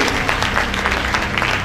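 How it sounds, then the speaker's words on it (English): At a school quiz competition, an audience breaks into loud, dense applause that stays steady, with many hands clapping close together. "A round of applause for them"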